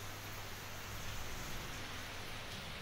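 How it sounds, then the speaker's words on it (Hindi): Heavy monsoon rain falling outside, a dense, even hiss of rain that stays constant throughout with no voices. "बाहर बारिश भी बहुत तेज़ हो रही है।"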